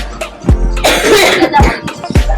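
A loud, close cough bursts out in a few harsh, rough pulses, one after another, with no talking around it.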